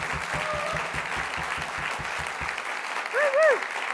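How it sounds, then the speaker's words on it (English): An audience at a university degree ceremony in Milton Keynes claps for standing graduates, steady applause that fades out, followed by a loud whoop from a single voice. "Let's give them the first of many very big cheers."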